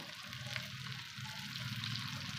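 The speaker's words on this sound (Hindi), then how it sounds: "ये देखिए अब इस तरीके से हम भिंडी को फ्राई करेंगे" Fresh okra (bhindi) frying in a pan of hot oil, a soft continuous sizzle with light crackle, close and fairly quiet, with no talk.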